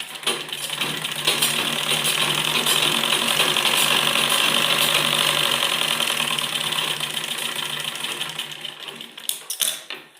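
A sewing machine runs steadily for several seconds, stitching along the edge of a baby frock, its fast mechanical whir holding close and even before slowing and stopping at the end with a few clicks.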